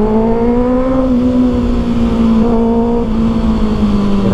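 A 2024 Kawasaki Ninja ZX6R inline-four sport bike engine held at high rpm, a loud, close, sustained tonal scream with slight pitch wavering and a brief dip midway.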